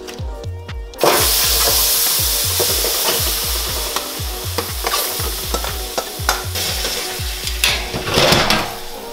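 Carrots hit a very hot pan and burst into loud sizzling, then keep frying with a steady hiss broken by rhythmic scraping and tossing clatters from stirring.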